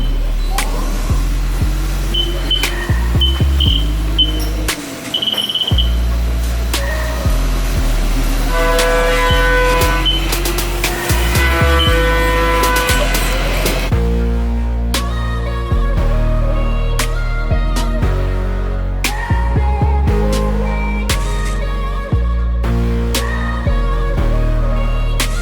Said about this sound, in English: What you're about to see right now is they're cutting my 720S wheel